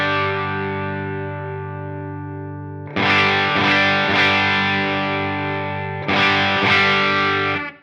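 Electric guitar through a Line 6 Helix with distorted tone, a long sustained chord fading, then fresh strummed chords hit with more gain and saturation, loud and close with no voices.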